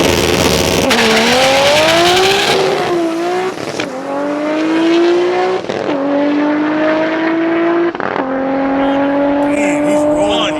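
A stock 1JZ-engined car screams through a quarter-mile drag pass at a private drag strip, loud and close, engine note climbing through several sharp gear changes with a brief tire chirp, and voices talking over it.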